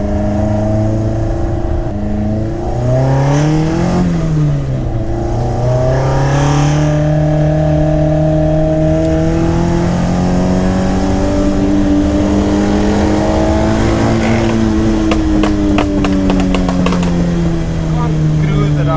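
A Mk2 Golf GTI 2.0 16v engine drones loudly and steadily on a mountain pass road, its pitch rising and falling as it revs up and eases off through changing gears.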